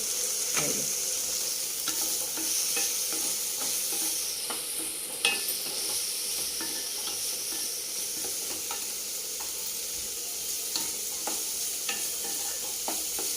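Steady sizzling of garlic frying in a hot pan, with occasional clicks and scrapes of stirring, close and continuous.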